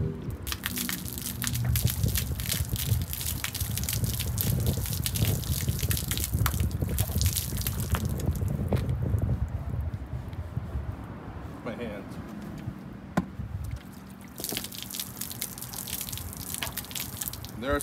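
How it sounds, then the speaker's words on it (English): Rinse water from a hose washes cleaner off an aluminum trailer, a steady spraying and splashing hiss that runs throughout, with people talking over it. "We're now going to rinse."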